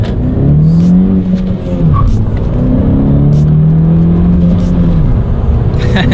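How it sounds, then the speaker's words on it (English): A 2017 Honda Civic Si accelerating hard, its engine note climbing steadily in pitch as it gains speed, loud and close throughout with a brief dip partway through. "let's do a quick little acceleration here and see how quickly we can get this thing up to speed"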